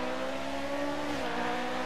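A 1982 vintage racing car engine drones and revs steadily, loud and close, with a rough harmonic growl throughout and no voices.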